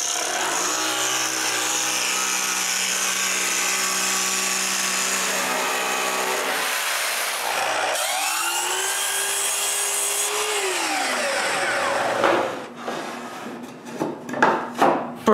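Plywood being cut to size in a workshop while building a wooden bandsaw: a steady rasping saw stroke runs for about twelve seconds, then breaks into a few louder, uneven knocks and scrapes near the end.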